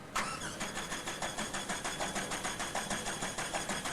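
A 2004 Shelby Cobra concept car's engine cranks over with a starter, giving a loud, fast, even rhythm of repeated pulses that runs without pause and never catches.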